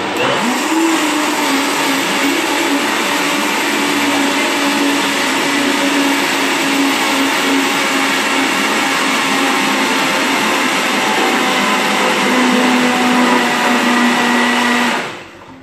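A blender runs loud and close for about fifteen seconds, a constant whirring motor roar with a steady hum that holds its pitch, then cuts off abruptly at the end.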